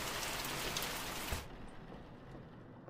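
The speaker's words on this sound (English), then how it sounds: "Apparently it always rains." Steady rain hisses loudly in the horror video game The Mortuary Assistant, then drops abruptly to a much fainter patter midway through.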